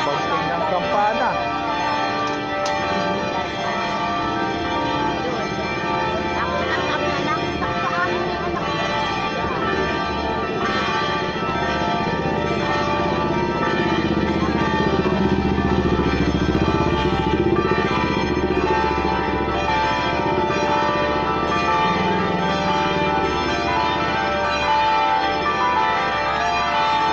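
Loud church bells of Antipolo church peal continuously with dense, overlapping ringing tones, heard from close by in front of the church amid some background noise.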